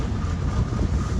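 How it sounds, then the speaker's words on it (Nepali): A tractor approaches as a loud, steady low engine rumble, with wind buffeting the microphone throughout. "हामी चाहिँ मालमाल एउटा ट्र्याक्टर आइरहेको छ"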